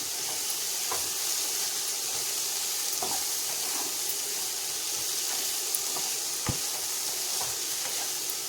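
Cluster beans and masala sauté in a pan with a steady, soft sizzle, while a spoon scrapes and stirs now and then, making occasional light clicks.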